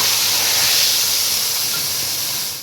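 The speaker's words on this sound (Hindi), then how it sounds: "यहाँ पे अब कड़ी का तड़का रेडी हो रहा है, जिसमें गोल मिर्च है, ज़ीरा है और घी है" Ghee tadka with black pepper and cumin for kadhi sizzles loudly and close, a continuous bright hiss that fades slightly at the end.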